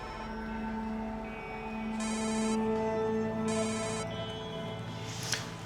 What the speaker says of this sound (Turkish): Şu Bilal'i bir arayayım ilgileneceğim sizle.